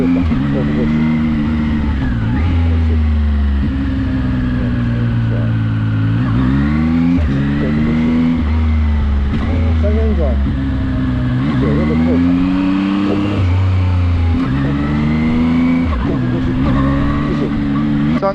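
Zontes 703F motorcycle engine revving up and down repeatedly through quickshifter gear changes, each climb cut by a quick dip, loud and continuous with a voice talking over it.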